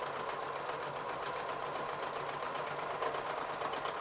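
Sewing machine running a steady rapid stitch along a fabric seam on a jogger side pocket, an even mechanical whir with fast regular needle beats, close and uninterrupted.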